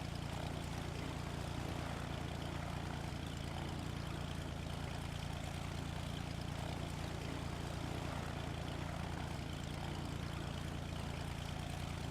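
A propeller airplane in Flight Simulator X lands nose first, its engine drone steady and loud throughout, with a continuous rumble and no distinct impact.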